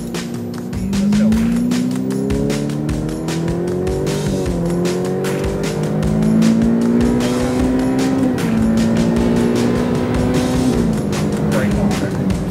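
A car driving fast around the SpeedVegas racetrack, its loud engine droning and climbing steadily in pitch, dipping at gear changes, with voices faintly under the engine noise.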